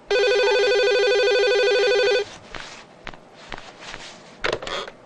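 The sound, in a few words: telephone ringing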